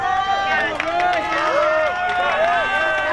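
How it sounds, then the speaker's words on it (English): A crowd at an independent pro wrestling show cheers and shouts to urge on a wrestler, a loud, continuous mass of voices with rising and falling yells filling the hall throughout. "You hear the crowd trying to will Ray Rosas on."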